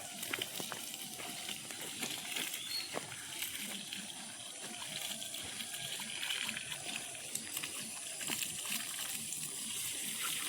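Water splashes steadily onto young garden balsam seedlings outdoors, a continuous soft gushing and spattering close by with no clear speech.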